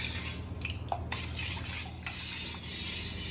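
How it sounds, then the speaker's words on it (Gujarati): A spoon stirs jaggery in a pot to melt it for a Gujarati malpua batter, giving soft scraping and occasional light metal clinks against a steady low background hum, close and alone with no talking. "ચમચી વડે હલાવીને આપણા ગોળને ઓગાળી લીધો છે"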